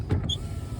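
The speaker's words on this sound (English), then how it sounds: "Window doesn't want to go down." A car's electric power window motor straining as the window goes down, a brief creaking, whirring mechanism sound heard up close inside a vehicle parked on an incline.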